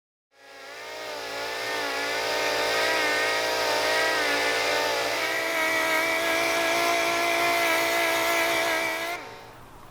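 A power sander whines steadily for about nine seconds on the epoxy-primed body of a 1985 Pontiac Fiero 2M4, starting and stopping abruptly, loud and close, with a slightly wavering pitch and no talking.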